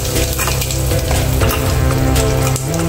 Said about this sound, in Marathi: आता याला फोडणी देऊन घेऊया.